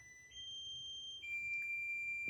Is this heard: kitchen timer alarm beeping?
yes